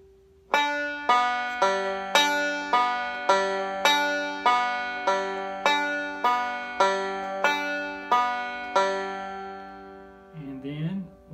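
Banjo picking a Scruggs-style reverse roll across the first three strings, a slow, even run of bright plucked notes ringing close, ending with a brief voice.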